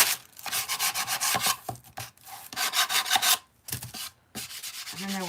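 A painted wood craft piece is sanded by hand, with rapid rhythmic rasping strokes in short bursts and brief pauses, close and fairly loud.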